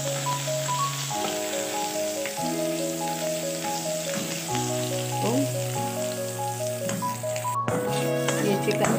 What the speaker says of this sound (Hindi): अब मैं इसमें लहसुन अदरक का पेस्ट डाल दूँगी